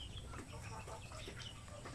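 Shamo aseel chickens clucking softly at a distance, faint scattered calls over a low steady background hum, no voices.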